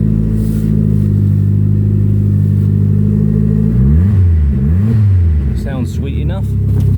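A 1990 Ford Escort RS Turbo with its CVH engine idles steadily up close, then revs twice in quick succession, the pitch climbing and falling each time, before a short higher burst near the end.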